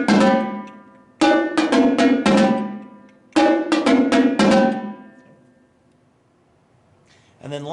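Marching quad drums play a simple high-low drumline cadence: loud, close groups of tuned strikes in repeated short bursts, trailing into a quiet decay, with a voice starting at the end.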